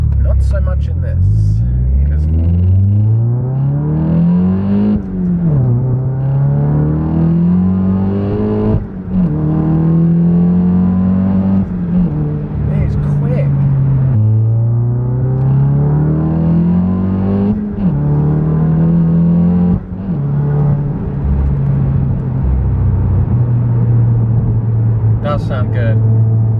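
A 500bhp VW Golf GTI engine accelerates hard through several gears, each loud, close rising surge dropping back at the shift before climbing again, with a steady deep rumble throughout.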